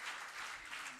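A brief burst of audience applause thanks a guest speaker at an accounting talk for startup businesses, steady even clapping from a crowd lasting about a second.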